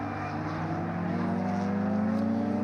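Lotus race cars at Magny-Cours circuit, engines droning and rising in pitch as they pass at a moderate distance, a steady continuous roar.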